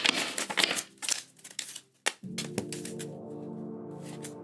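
Tarot cards shuffled in a few quick riffling bursts, crisp papery flutters and taps close to the microphone, followed by a faint steady hum.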